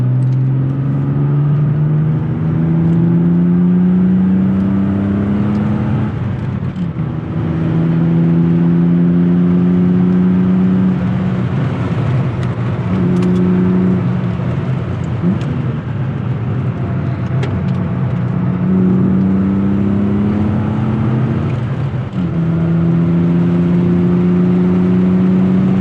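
A BMW E36 323i engine drones loudly from inside the cabin, revving up through the gears in repeated rising pulls, with road and wind noise throughout.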